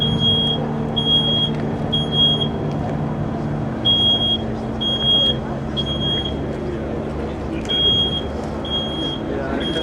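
A smoke alarm chirps in short, regular high-pitched bursts during a college fire demonstration, repeating steadily over a dense background of rumbling noise and crowd murmur.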